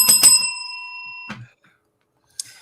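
A bright bell rings two quick strikes with a long sustained metallic tone that rings out and cuts off, followed by a short thump and a faint click after silence.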